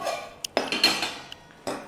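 Metal cooking pot clanks and knocks a few times in quick succession, close and sharp, as it is set down on a gas stove.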